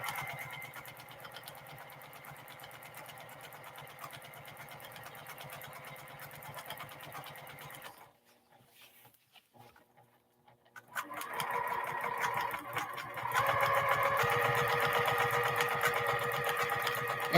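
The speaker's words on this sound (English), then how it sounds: "So I'm going to go ahead and sew back and forward to lock that in" A sewing machine stitches back and forth while ruler quilting with gray thread, a steady fast mechanical whir that stops for a few seconds in the middle, then resumes louder and busier.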